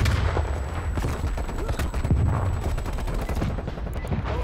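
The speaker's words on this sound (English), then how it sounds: "And use my artillery now." An artillery strike in Black Ops Cold War hits as a dense barrage of rapid booming impacts and gunfire, loud and continuous through the clip.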